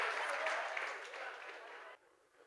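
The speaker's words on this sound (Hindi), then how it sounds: "बहुत ही जोरदार तालियां धक धक गर्ल्स के लिए" An audience claps loudly at a Ram Leela stage show, a dense burst of applause that fades and cuts off sharply near the end.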